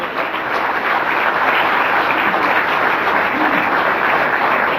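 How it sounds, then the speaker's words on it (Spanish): A church congregation applauds in a loud, dense, sustained wash of clapping that holds steady throughout, with no voices standing out. "Vamos, aplaudo al Señor."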